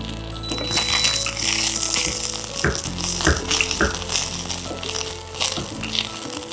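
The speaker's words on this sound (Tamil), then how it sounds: "முடக்கத்தான் கீரையை நம்ம விளக்கெண்ணெயில் நல்லா வதக்கிடணும்" Mudakathan greens sautéing in castor oil in a pan: a steady, fairly loud sizzle and crackle runs throughout, with occasional clinks and rattles of a spoon stirring against the vessel.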